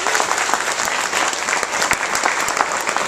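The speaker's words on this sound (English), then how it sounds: "give these folks a big round of applause for their accomplishments" An audience applauds champion spellers after a spelling competition, with dense, steady clapping throughout the short stretch and no voices standing out.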